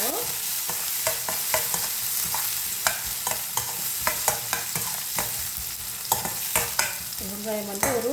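Onions frying in a pan for mushroom curry, a soft sizzle under frequent sharp scrapes and clicks of a spoon stirring, close and unaccompanied by talk.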